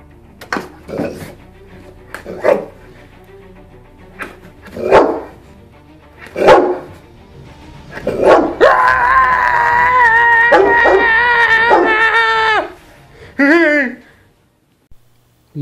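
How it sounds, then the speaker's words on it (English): A guard dog barks in single loud, sharp woofs spaced about two seconds apart, then a sustained tonal, howl-like sound follows, with a short burst of voice near the end. "Use a guard dog."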